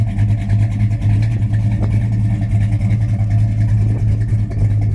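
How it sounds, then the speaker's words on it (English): A 1969 Plymouth Road Runner engine idles on a cold day of about 20 degrees with a little steam, a loud steady low rumble with new dual exhaust and slight lumpy pulsing, no voices. "Engine runs great, but we do have a little steam."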